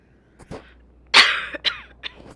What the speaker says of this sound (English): The cough.